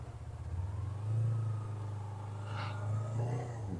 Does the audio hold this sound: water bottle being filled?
no